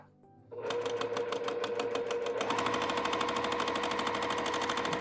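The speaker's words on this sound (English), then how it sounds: "we're going to sew down the other side" A sewing machine stitches down the side of half-square triangles for a Churn Dash quilt block, starting after a brief pause and then running as a steady, rapid, loud mechanical chatter with nothing else heard.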